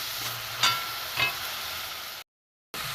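Coconut filling stirred and dried in a kadai for kamranga pitha, a steady close sizzling hiss with two brief scraping stirs, alone without talk, cut off by a short silence near the end.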